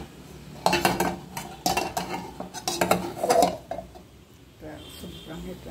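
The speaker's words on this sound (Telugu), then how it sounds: "శుభ్రంగా ఇట్లా మెదిపేసుకొని మెత్తగా ఇట్లా తీసుకోవాలి" A spoon mashes and scrapes ragi sangati in a vessel, with repeated clinking and scraping strokes in bursts that then grow quieter near the end.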